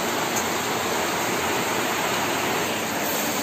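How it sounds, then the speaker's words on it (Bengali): Heavy rain pours outside, a dense, even roar of broadband hiss that stays constant and fairly loud without a break, heard from indoors. "এই দেখো প্রচন্ড জোরে বৃষ্টি হচ্ছে বাইরে।"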